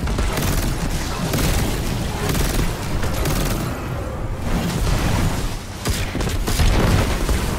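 Video game gunfire rattles through dense, loud bursts of shots and booming blasts, nearly continuous across the stretch with only a brief lull midway.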